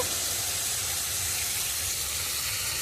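Tomato frying in a hot pan gives a steady, close sizzle like a continuous hiss, with no voices and no breaks.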